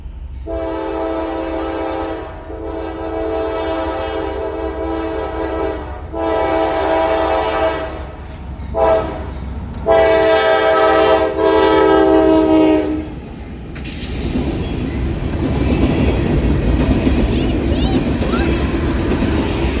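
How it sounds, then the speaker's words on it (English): A GE AC44C6M locomotive sounds its multi-chime horn in a long show of repeated blasts, loud and fairly near, before the rumble and clatter of the passing train take over at the end. "this crew would give one of the best horn shows I have heard in a while"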